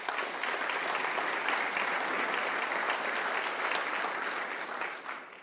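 Audience applause for the legislators at a public event with Governor Jeff Landry in Ruston, a dense, steady wash of many hands clapping at even loudness throughout, tapering slightly at the end.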